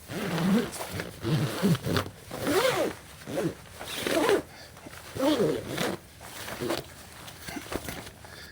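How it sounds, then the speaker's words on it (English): A tent floor zipper on an Overlandish Basecamp tent is pulled in a run of repeated rasping strokes, loud and close, each burst separated by short pauses. "And zip it up."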